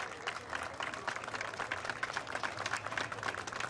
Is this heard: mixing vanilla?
no